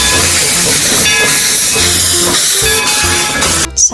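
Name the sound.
toy classic steam locomotive train sound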